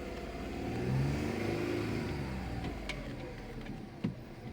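A car engine idles and revs briefly while being parked at a beach car park in Italy, a smooth steady hum that swells and then settles, with a single faint click near the end.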